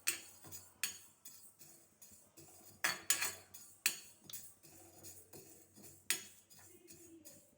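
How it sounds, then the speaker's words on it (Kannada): Moong dal being dry-roasted in a pan while a metal spoon scrapes and clinks against it, producing irregular sharp metallic taps over a quiet rustling background. "ಇದನ್ನು ನಾನು ಹುರಿತಿದ್ದೇನೆ, ಹೆಸರುಬೇಳೆಯನ್ನು"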